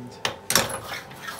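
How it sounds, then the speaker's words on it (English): A lever on a restored vintage power hacksaw engages its dog gear with a couple of sharp metallic clunks close by, followed by a steady mechanical hum as the machine runs. "I'm just pulling this lever, and it activates the dog gear here"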